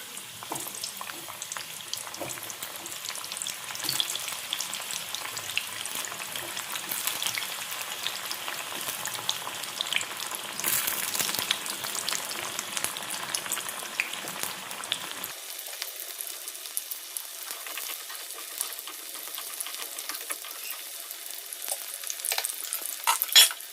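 Sliced eggplant fries in hot oil in a pan for a Dahi Baigan recipe, a steady close sizzle with occasional stirring, continuous throughout with no talking.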